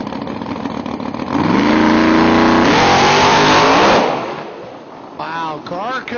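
A drag racing car at a Holly Springs, Mississippi dragstrip roars loudly off the line and screams down the track for a few seconds, then fades as it shuts off, with an announcer talking over the tail end.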